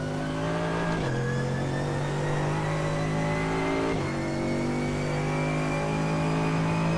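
Mercedes-AMG GT3 race car at Mount Panorama in iRacing, its engine droning steadily at high revs with two quick dips where gears shift, a continuous loud tone throughout.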